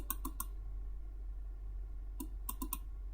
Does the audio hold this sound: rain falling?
no